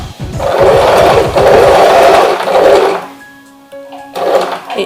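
A Singer Start 1306 sewing machine stitches a buttonhole in close, loud bursts of rapid needle chatter, pausing briefly before a final short run.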